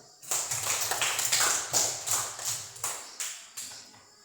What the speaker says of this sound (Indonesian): Tepuk tangan untuk Hanif